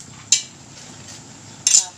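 A utensil stirs crab broth in a pot and clinks twice against the metal, sharp and close, with a quiet simmer in the background between the clinks.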